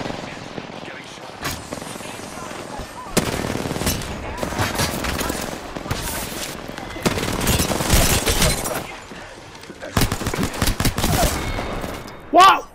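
Rapid bursts of automatic gunfire from a battle royale video game, loud and close and coming in repeated volleys with short gaps between them.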